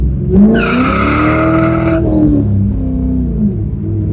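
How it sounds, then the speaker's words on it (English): A loud tire squeal from a manual car's burnout sustained for about one and a half seconds over a roaring, revving engine, which keeps rumbling steadily after the screech fades. "That's how you do a burnout."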